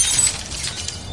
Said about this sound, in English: Now a stylish glass coffee table.